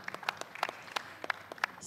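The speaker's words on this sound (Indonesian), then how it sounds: "Boleh kita berikan tepuk tangan yang paling meriah." An audience at the 2022 national Pemuda Pelopor grand final ceremony gives faint, scattered handclaps, a few crisp claps standing out over a soft background.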